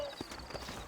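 Horse hooves clip-clopping on a dirt road in Red Dead Redemption, a few quick hoofbeats at close range, with a faint background hum.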